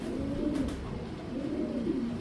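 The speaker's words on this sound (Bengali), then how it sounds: "একটা গ্রিজেল কবুতর" Grizzle racing pigeons coo close by, their soft throaty calls rising and falling in two repeated phrases over a steady low background, with no talking.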